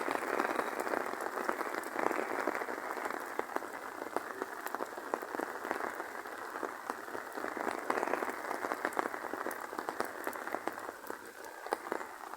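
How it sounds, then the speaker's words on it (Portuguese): Light rain falls in a steady, dense patter of small drops striking a surface, close and even throughout with no voices. "Olha a barulho da chuvinha."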